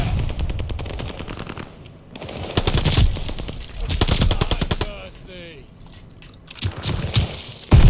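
Call of Duty Vanguard ranked hardpoint match gunfire, with rapid automatic bursts and single shots near and far, mixed with footsteps and a player talking over the action.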